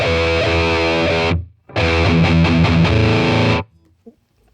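An electric guitar plays through a Line 6 Catalyst amp in high-gain mode with heavy distortion, two loud sustained riffs of thick chords separated by a brief gap, then cutting to near silence.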